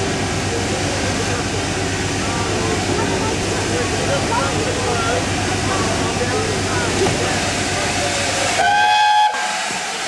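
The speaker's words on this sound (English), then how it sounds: "it's just a steam engine" A steam locomotive whistle sounds briefly near the end, a bright harmonic blast over a busy rumble of hissing steam and chuffing engine noise from LNER A4 Pacific No. 4468 Mallard on the Settle and Carlisle line.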